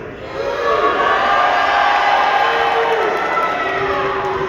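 A large indoor crowd in New York at a boxing press conference cheers and roars for Ryan Garcia, a loud, sustained wall of voices with whoops rising above it.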